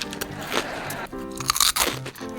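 Loud, close crunching of dry breakfast cereal being chewed, a dense run of crackly bites and grinding crunches filling the whole stretch with no talk.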